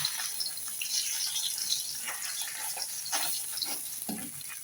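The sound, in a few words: bata fish frying in pan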